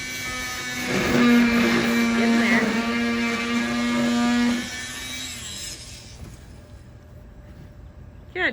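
A cutting tool works through an aircraft engine cowling on a Zenith Cruzer, giving a steady whining, humming drone with harsh grinding texture that fades out midway, then quiet room noise and a short knock at the end; voices talk over parts.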